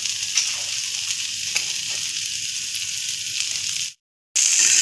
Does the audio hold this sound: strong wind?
no